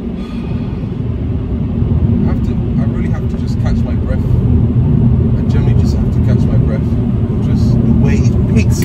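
A loud straight-piped, Stage 1 BMW E60 530d diesel engine drones at length while accelerating, with a deep, rough rumble inside the cabin while people talk over it.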